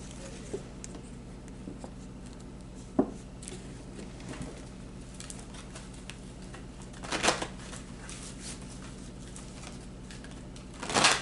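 Tarot cards are shuffled quietly at close range. Soft riffling and patting come in a few short bursts, louder near the end, over a low background hum with no voices.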